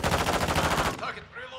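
A sentry gun in Call of Duty: Modern Warfare II fires a rapid, loud burst of evenly spaced shots that stops abruptly after about a second.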